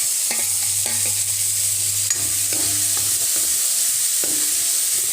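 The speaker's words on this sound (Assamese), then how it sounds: "এতিয়া মই এই গাজৰ এই আগটো ভাজি লম।" Carrot tops stir-fried in a pan for an Assamese dish, a steady close sizzle with repeated scraping and stirring strokes of a spatula, no voices.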